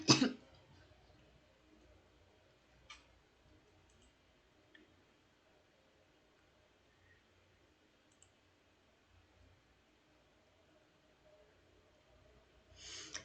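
A teacher in a classroom gives a sharp cough and throat clearing at the start and again at the end, with a few faint clicks and near silence in between.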